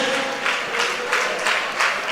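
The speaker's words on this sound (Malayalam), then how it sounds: "ശക്തിയോടൊന്ന് കൈയടിച്ച് സ്തോത്രം പറഞ്ഞേ" Church congregation clapping hands together in worship, rhythmic bursts of applause fairly close and steady, with faint voices blending in behind.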